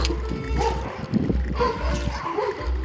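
Dogs bark and yip in short, scattered bursts, fighting through a wire fence, over a steady low hum, sounding agitated and somewhat distant.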